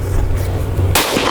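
A Ruger 57 pistol fires one Hornady V-MAX 5.7x28mm round: a low hum gives way to a single very loud, sharp, close crack near the end.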